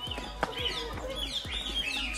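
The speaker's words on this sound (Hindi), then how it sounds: "सिल्वर फीसेंट" A silver pheasant at Bondla Zoo in Goa gives a string of short chirping calls, repeated in quick succession over soft background noise.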